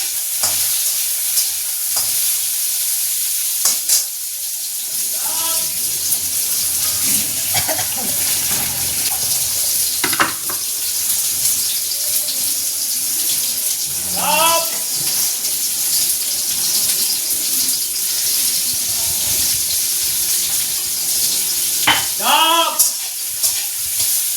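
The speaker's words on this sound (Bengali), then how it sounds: "ডালটা ফোড়ন দিয়ে নিয়ে তারপর পোস্তটা বসাবো।" Whole spices crackle as boiled lentils (dal) are tempered in a pan, giving a steady sizzle that runs throughout, with scattered clinks and scrapes of stirring and a few faint voice-like sounds in the background.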